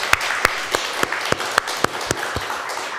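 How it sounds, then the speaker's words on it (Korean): A church congregation at a Sunday worship service breaks into brisk applause, many hands clapping in a fairly steady rhythm, loud and close throughout. "우리 박수 한번 칩시다"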